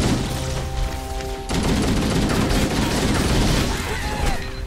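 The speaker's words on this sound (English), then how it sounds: "I didn't mean to throw a grenade right there." A grenade goes off in Halo: Combat Evolved, a sudden loud burst that cuts in partway through and spreads into a sustained rumbling crackle of battle noise.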